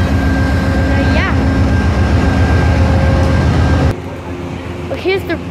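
A VIA Rail passenger train with brake damage on an axle rumbles steadily and loudly at close range, its noise dropping abruptly near the end, while a few short squealing tones rise over the din.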